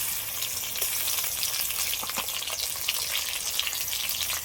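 Chopped tomato hits onion frying in mustard oil in a kadai, giving a close, bright crackling sizzle with small popping spatters throughout.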